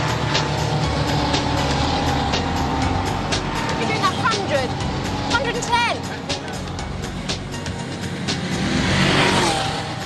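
A race car drives in a race with a steady loud engine drone and brief rising revs, while people talk over it.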